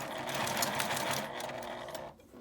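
A sewing machine runs steadily, stitching a small zippered pouch with a backstitch at the start of the seam, a continuous close mechanical whir that stops near the end.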